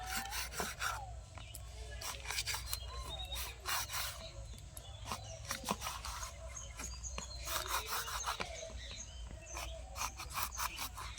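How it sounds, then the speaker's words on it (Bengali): A knife cutting warm, freshly set sesame and jaggery brittle into pieces, giving repeated scraping, crunching strokes in uneven bursts, close and fairly loud, with no talk. "এবারে দেখুন আমি ছোট বড় করে কেটে নেব"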